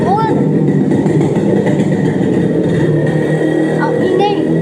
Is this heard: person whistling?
no